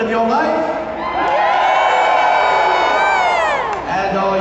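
An arena crowd at a Medieval Times knights tournament roars and cheers loudly and continuously, with many voices shouting and whooping close by.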